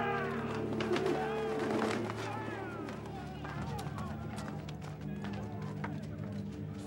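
Pigeons or doves coo and flutter in a busy temple marketplace, soft warbling calls close by over a murmuring crowd with voices talking throughout.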